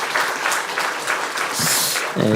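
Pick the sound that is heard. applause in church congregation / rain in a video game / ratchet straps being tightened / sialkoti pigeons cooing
applause in church congregation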